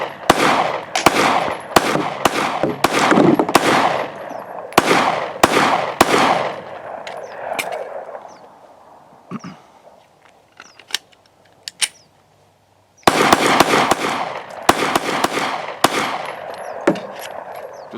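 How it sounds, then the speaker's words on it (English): Pistol shots from a new handgun fired outdoors in the Arizona desert, loud sharp reports in rapid strings of about a dozen, a quieter gap with faint scattered sounds, then another fast burst. "this is the first rounds from this weapon I fired"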